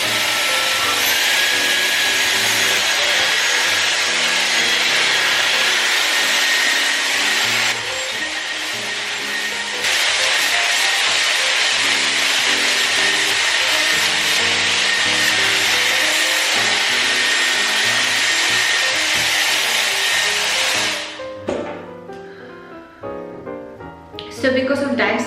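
A Dyson hair dryer roars steadily at close range while styling fine hair, with a brief dip partway through. After about twenty seconds it cuts off, leaving softer handling sounds and talk.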